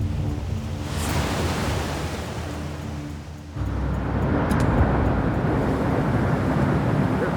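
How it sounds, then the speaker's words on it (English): Hurricane Katrina's storm surge rushes in with a steady, heavy roar of water and wind that swells louder midway and stays dense and close. "That's the storm surge coming in."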